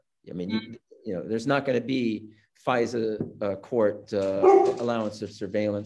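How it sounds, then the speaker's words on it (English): A dog barks and yips in the background beneath a man's continuous close speech, the barks faint and partly masked by his voice. "that's the dog in the background"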